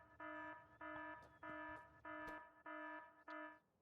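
An alarm in the video game Factorio beeps in six evenly spaced tones, steady and fairly loud, over faint background noise.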